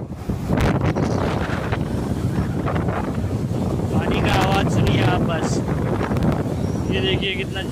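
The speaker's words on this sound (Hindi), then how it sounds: "आज मैं आपको दिखाने वाला हूँ समंदर में जहाज चलता कैसे, पानी का आवाज़ सुनना आप लोग बस" A ship's bulbous bow cuts through the open sea with a continuous rushing wash, heavily buffeted by wind across the microphone, and a voice speaks briefly.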